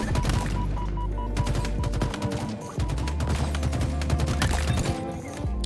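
Gunfire in the shooter video game Halo Infinite during a multiplayer match, a dense, continuous barrage of rapid shots and impacts over a loud mix of game noise, no talk.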